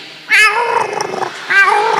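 A person imitates fighting cats: two loud, wavering yowls with harmonic wails, the first longer, the second shorter, close and alone.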